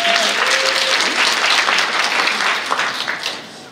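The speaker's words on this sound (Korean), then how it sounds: "박수로 환영해 주시면" Audience applause at a blockchain and AI summit session, a dense sustained clapping from a full hall that holds steady and then tapers off toward the end, heard alone without speech.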